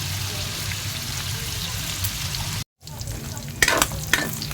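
Pork frying in its own rendered fat in a pan, a steady dense sizzle throughout with a brief cutout and a few louder crackles or stirring scrapes near the end.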